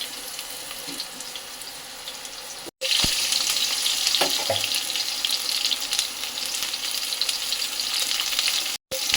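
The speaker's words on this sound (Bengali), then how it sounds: "যে তেলে মাছটা ভাজা হয়েছিল ওই তেলটাতেই মা আলুটা ভেজে নেবে" Potato pieces fry in oil left over from frying bhetki fish, giving a steady, bright sizzle that runs continuously and cuts out twice, very briefly.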